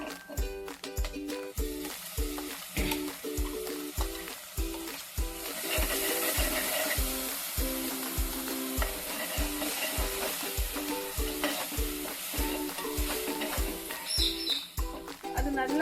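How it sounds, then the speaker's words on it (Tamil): Ground masala paste is sautéed with onions in a pan, a steady sizzle and frying hiss under a regular rhythm of a spoon stirring and scraping. Faint bird chirps sound in the background. "நல்லா பச்சை வாடை போற அளவுக்கு கொஞ்சம் வதக்கிக்கோங்க"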